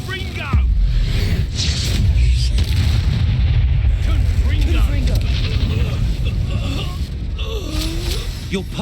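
A Confringo fire spell explodes in Hogwarts Legacy: a sudden heavy boom followed by a long rumbling blast and crackling debris, with character voices and combat effects layered over it.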